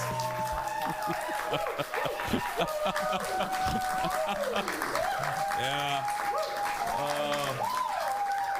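A studio audience at a pre-taped television talk show applauds and cheers steadily, mixed with a few laughs, while a voice speaks briefly over the noise.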